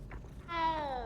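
A cat in Hogwarts Legacy gives a short, soft meow that rises and falls for about half a second after a brief rustle, heard quietly and alone.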